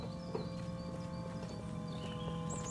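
Footsteps ring with a metallic clang as a character walks in the video game Destroy All Humans!, a steady run of hard, clip-clop-like strikes over a busy background bed of game ambience.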